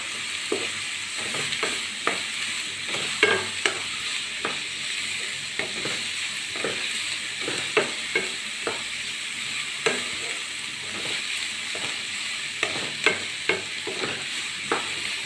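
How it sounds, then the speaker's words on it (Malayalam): A chicken sandwich filling with chopped green chillies stirred in a hot pan, the steady sizzle broken by frequent sharp spoon-on-pan scrapes and knocks in an uneven rhythm, close by with no talking. "നന്നായിട്ട് മിക്സ് ചെയ്യുക."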